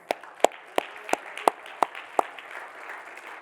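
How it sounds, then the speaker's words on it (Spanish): Sharp, evenly spaced claps in a church service, about eight beats in a slow unison rhythm over a soft background murmur, fairly close. "Un aplauso a nuestro Señor"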